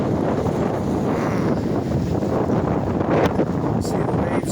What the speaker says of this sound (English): See the waves crashing over the break wall.